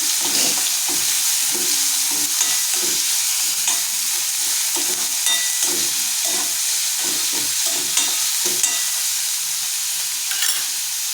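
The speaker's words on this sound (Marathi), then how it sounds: "आता आपण याच्यात कांदा टाकूया आपण कांदा छान गोल्डन ब्राऊन होईपर्यंत भाजूया" Onion frying with garlic and green chilli in a pan, a constant hissing sizzle close by with repeated scraping and stirring strokes from a spatula running through it.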